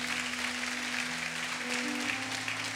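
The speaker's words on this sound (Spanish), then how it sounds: "Dale un aplauso al Señor." A church congregation applauds during a Spanish-language sermon, a steady sustained clapping over a low organ or keyboard drone that shifts pitch partway through.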